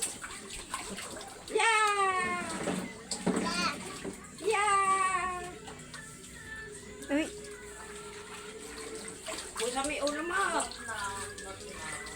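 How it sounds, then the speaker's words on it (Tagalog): Water is scooped and thrown at a swimming spot with children, producing splashes between stretches of a voice and laughter, the splashing bursts clustering early and mid-way, fairly close and moderately loud. "Tatapon ulit tubig."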